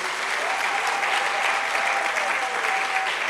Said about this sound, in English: Please let's clap for this team